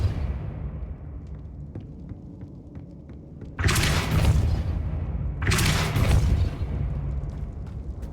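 Two forceful Depulso spell blasts in Hogwarts Legacy, each a broad rushing burst lasting about a second and a half, rising over a low ambient hum with a pause between them.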